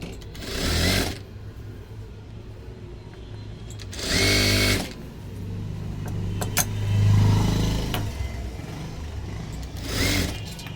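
A sewing machine stitching a tucked blouse runs in several short loud bursts of rapid whirring, with quieter handling sounds between the runs.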